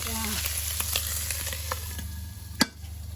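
Crab baking in a covered pot over the heat, giving a steady low sizzle and bubbling with scattered small pops and one sharper clack near the end, fairly quiet, no voices.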